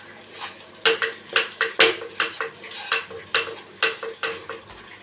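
A spoon mixing a spiced potato filling with amchur powder and chilli powder in a bowl, about a dozen rhythmic scraping knocks against the bowl, close and fairly loud, no voices.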